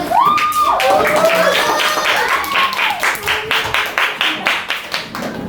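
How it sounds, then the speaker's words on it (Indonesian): Students in a classroom clap for a classmate group stepping up to present, the clapping growing into a rhythmic, fairly close patter after some voices and calls at the start. "Tepuk tangan untuk kawannya."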